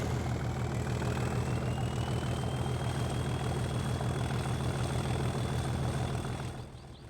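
A diesel locomotive engine in Train Simulator Classic on the West Highland Line, Spean Bridge to Fort William, throbs steadily as power is applied, a constant loud low rumble with a rising whine, easing slightly at the very end.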